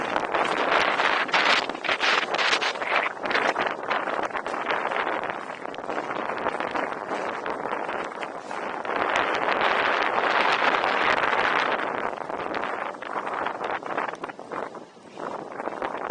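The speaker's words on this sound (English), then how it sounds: "It's extra windy." Heavy wind buffets the microphone for a long stretch during a bike ride in Central Park, New York, a loud roaring hiss that surges and fades in waves, dipping briefly near the end.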